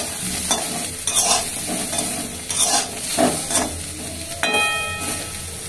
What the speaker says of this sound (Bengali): ফুলকপিগুলো একটু ভেজে নিই